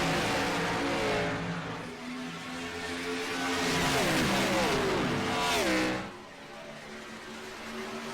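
A pack of Gen-6 Cup Series stock cars roars around Chicagoland Speedway in a virtual race, engines droning steadily and swelling as they pass close, then fading slightly to a continuous distant hum.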